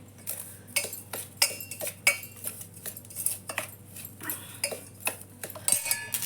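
A metal spoon clinks and scrapes repeatedly against a pot or jar while salt goes into an amla pickle, with quick irregular taps, close and fairly quiet.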